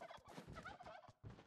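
A turkey gobbles in a video game, a quick, burbling run of rattling calls in two bursts, close and fairly quiet, with no voices over it.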